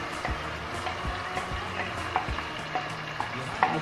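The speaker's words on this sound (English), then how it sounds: "see that you saute your onion" Onion sautéing in a pan, a steady close sizzle and crackle with a few faint utensil scrapes and clicks, no talking.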